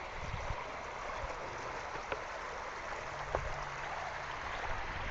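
Water pouring over a spillway at an outdoor lake among longleaf pines, a steady broadband rushing wash heard from some distance, with a few faint knocks and no voices.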